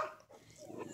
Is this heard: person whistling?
no